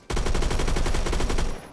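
One continuous close burst of rapid automatic fire from a FAL rifle in Roblox Phantom Forces, loud and evenly paced for about a second and a half before cutting off with a short tail.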